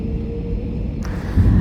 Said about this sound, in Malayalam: ടേക്ക് ഓഫ് ചെയ്യാൻ വേണ്ടി റൺവേ കൂടെ മാക്സിമം സ്പീഡിൽ റൺ ചെയ്തുകൊണ്ടിരിക്കുകയാണ്.